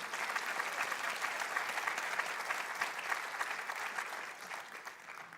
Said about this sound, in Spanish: Démosle un aplauso a Dios por eso.